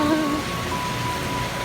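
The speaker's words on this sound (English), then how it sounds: "Rain, please go away so I can leave it today." Rain drums steadily on a backyard camping tent, a constant close patter of drops filling the space without any talking.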